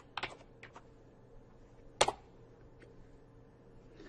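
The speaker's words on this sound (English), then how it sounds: "So type in grocery." Typing on a computer keyboard to enter a search for grocery stores: a few quiet, scattered key clicks with one sharper tap near the middle, close by and alone.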